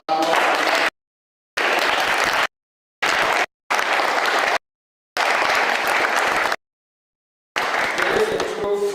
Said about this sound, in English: Please, can we give a hand of applause?